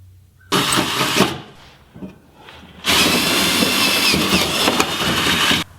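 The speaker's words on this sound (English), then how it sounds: "drill them with a small drill bit" A power drill with a small bit whines loudly drilling holes in metal in two bursts, a short run followed by a pause and light clatter, then a longer sustained drilling run.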